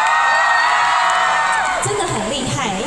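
A concert crowd cheers and whoops loudly and steadily at an outdoor show for a singing-contest favourite at Dali Art Plaza in Taichung Software Park, the shouting thinning slightly toward the end.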